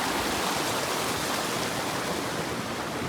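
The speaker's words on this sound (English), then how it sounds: "River Crossin." A flowing stream at a river crossing on a snowy mountain trail rushes steadily and close by, a dense unbroken wash of water noise with no voices.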